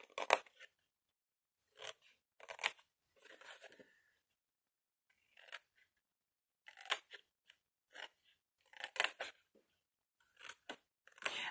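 Scissors cutting the edges of a small handmade box and lid, heard as short close bursts of snipping and crunching separated by quiet pauses, with no talking.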